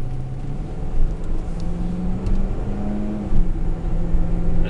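2007 Ford F150 XLT SuperCab 4x4 pickup with a 5.4 V8 driving along, a steady low engine drone with rising and falling pitch as the transmission shifts through gears, heard from inside the cab with no talking.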